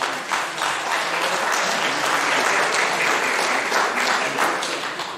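An audience claps steadily and loudly at a political gathering, a dense, sustained round of applause that holds at full strength before tapering slightly at the end.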